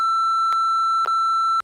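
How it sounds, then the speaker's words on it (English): A steady, clean censor beep holds for over a second and a half, broken by three short clicks before it cuts off. "you'll just beep it"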